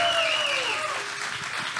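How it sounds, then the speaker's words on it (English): Crowd applause at a Chiefs fan happy hour, continuous and fairly loud, with a whistle-like tone sliding down at the start and a voice faintly mixed in. "give yourself a big round of applause."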